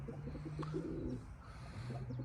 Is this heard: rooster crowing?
no